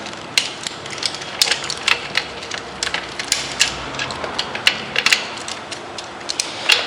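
Rapid ratcheting clicks from a wrench tightening the stem bolt on a beach cruiser bicycle, close and fairly loud, coming in irregular bursts with no talking.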